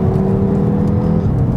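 An Audi RS Q3's engine drones under load while driving, a loud, steady low roar with a rising note, heard close and continuous without talk.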